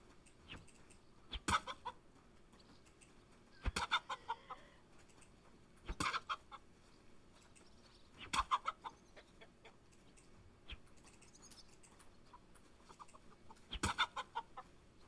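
Chickens cluck in short, separate bursts every couple of seconds, fairly faint over a quiet background with no talking, in Kingdom Come: Deliverance II.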